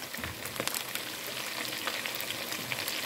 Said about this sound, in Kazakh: ары қарай тамағымызды қуыратын боламыз